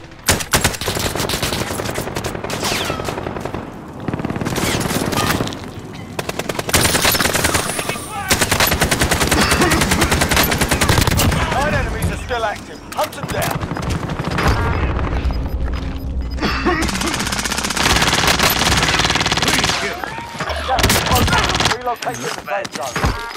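Dense automatic gunfire in the Call of Duty: Modern Warfare video game, loud and near, with sustained machine-gun bursts, scattered shots and booms running almost continuously, broken by a few brief lulls.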